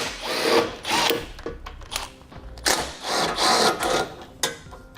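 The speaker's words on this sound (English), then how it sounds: "Now we need to remove the bolts where our core support attaches to our bumper core." A power tool whirs in short bursts while loosening 8mm bolts on a 2013 car's core support at the bumper, with close mechanical buzzing, ratcheting and clanks and brief pauses between pulls.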